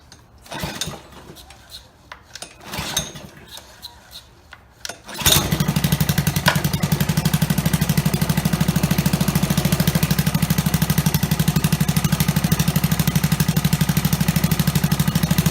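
After some handling noises and brief talk, the gasoline engine of an ExCell pressure washer starts abruptly and settles into a loud, steady, close-up chugging run.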